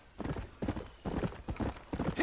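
Horses' hooves clip-clopping in the Western video game Red Dead Redemption, a steady run of close, loud hoof beats in rhythmic bursts with no talking.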